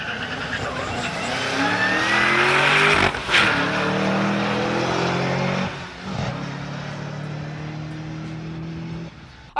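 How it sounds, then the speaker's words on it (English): A remote control toy car racing at speed, its high whining motor revving and shifting pitch repeatedly, loud and close, with a brief burst of noise as it passes. "This is actually a toy car powered by a remote control, and it can actually beat out a supercharged Cadillac"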